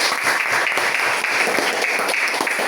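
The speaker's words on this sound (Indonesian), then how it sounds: "tepuk tangan dulu untuk kita semua" An audience at a school guidance teachers' training session applauds together, a steady dense wash of clapping that fills the whole stretch at even loudness with no voice over it.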